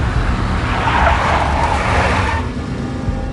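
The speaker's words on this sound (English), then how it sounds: "A big black Mercedes." A big black Mercedes skids in the video game Max Payne, a loud, close, continuous rushing tire scrub with engine noise that swells and then eases off toward the end.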